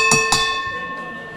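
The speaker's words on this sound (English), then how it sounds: "Ring the bell. Ring the bell now." A wrestling ring bell rings twice in quick succession, loud and close with a metallic clang and long ringing tail, at a wrestling event.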